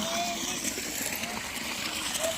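Water splashes steadily onto dry fodder grass as it is soaked, a close, continuous wet rush with no breaks.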